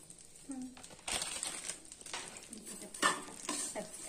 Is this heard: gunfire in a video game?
no